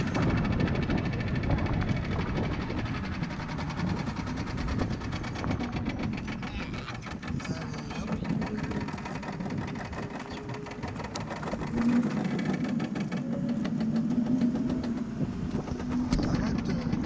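Motor of a homemade electric rosalie quadricycle at full speed: a steady, loud, rattling electric whine with mechanical chatter runs without a break, and voices speak briefly over it.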